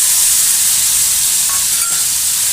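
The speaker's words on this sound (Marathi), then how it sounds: "तेल गरम झालेलं आहे. आता मिक्सरला फिरून घेतलेले हे वाटण टाकून घ्यायचे" Mixer-ground capsicum paste hits hot oil in an iron pan, producing a loud, dense, even sizzle that fills the whole short moment.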